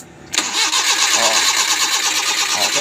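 A Suzuki Scrum F6A engine is started after a short quiet moment. It catches abruptly, then settles into a loud, steady mid-pitched idle that runs to the end.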